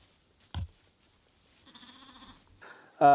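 Young lambs bleat close by, a wavering cry followed by a louder, sharper bleat at the end, with a brief thump between them.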